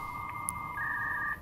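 Telephone in the Fallout: New Vegas video game, a clean electronic two-tone ring holding steady for about a second after a short blip, loud and alone with no voices.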